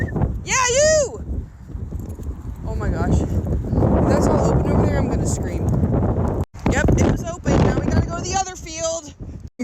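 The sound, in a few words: wind blowing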